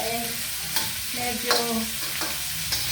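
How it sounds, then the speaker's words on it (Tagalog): Fatty pork belly sautés with garlic in a pan for sinigang, a steady sizzle punctuated by a few sharp spatula scrapes as the meat is stirred, close and moderately loud with no speech. "tapos isangkot siya natin mabuti yung karne para lumabas yung sarili niyang mantika"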